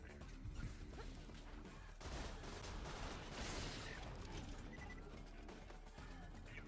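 Hornet gun firing in Borderlands 2, a dense, continuous burst of rapid crackling shots with impact crashes, steady and loud throughout the whole stretch.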